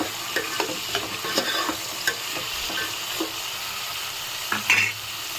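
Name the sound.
okra, green chili and carrot frying in a pan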